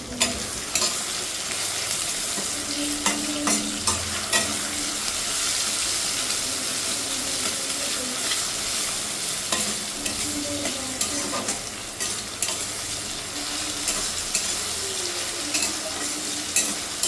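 Chopped tomatoes with a spoonful of salt cook in a pan for a Bengali-style bhola fish curry, a steady close sizzle with intermittent stirring scrapes and clinks throughout, no voices.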